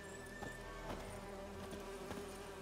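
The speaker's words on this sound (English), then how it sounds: "Oh gosh, not the bees." Bees in The Witcher 3 buzz faintly in a low, steady drone that holds throughout, with a few soft ticks over quiet ambient game sound.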